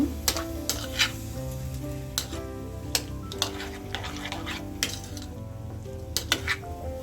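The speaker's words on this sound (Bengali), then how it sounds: "এতে এবার আলুগুলি দিয়ে দিচ্ছি। মিক্স করে নেব।" Potatoes sizzle in a frying pan as they are mixed for an egg and potato breakfast, a soft continuous fry under repeated clinks and scrapes of a spatula against the pan, near and without speech.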